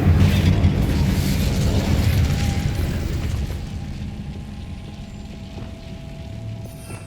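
A loud Bombarda spell blast from Hogwarts Legacy bursts right away and rumbles, then slowly fades over several seconds into a quieter tail.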